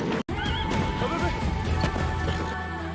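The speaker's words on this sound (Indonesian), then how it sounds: "kuda yang Gopin kira akan jinak seperti kuda biasa justru memberontak hebat" A rebellious horse resisting its handler whinnies loudly and close, its neigh ringing over a busy, thumping background of hooves and scuffling, with a brief sharp crash near the start.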